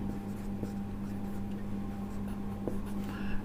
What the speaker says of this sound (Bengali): আমরা এখন 2 নাম্বার লিখব।